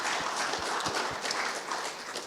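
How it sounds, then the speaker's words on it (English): Audience applause at a local business forum of city leaders in Oregon City, a steady broadband patter of many hands clapping at moderate level throughout, with a few louder individual claps standing out. "everyone really deserves another hand of applause"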